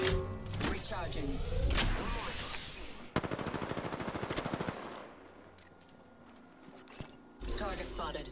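Rapid gunfire in the Apex Legends shooter, loud bursts of automatic shots with metallic mechanical clatter, then quieter fire and impacts over game ambience, with voice lines heard in the mix.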